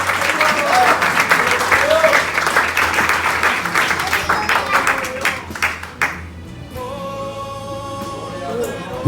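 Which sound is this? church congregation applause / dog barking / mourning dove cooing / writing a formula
church congregation applause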